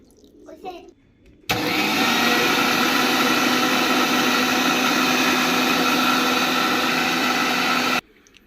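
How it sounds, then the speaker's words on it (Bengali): A blender grinds neem leaves with water, whirring loud and steady for about six and a half seconds before cutting off abruptly. A voice is heard just before it starts. "এখন ব্লেন্ডার করে যতটুকু রস বের করা যায়"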